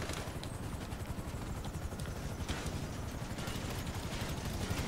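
A steady, rumbling helicopter drone with a faint rhythmic chop runs throughout, continuous and somewhat distant in the video game GTA V Online, during a prison raid.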